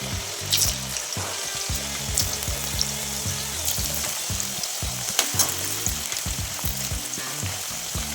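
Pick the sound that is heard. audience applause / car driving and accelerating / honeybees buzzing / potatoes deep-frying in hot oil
potatoes deep-frying in hot oil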